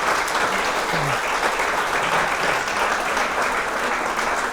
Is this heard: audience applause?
yes